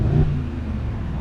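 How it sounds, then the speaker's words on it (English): Deep, throaty exhaust rumble from a vehicle on a Texas highway amid lifted trucks, motorcycles and sports cars, a steady low engine drone that swells briefly at the start and then holds even and fairly close. "That's exhaust."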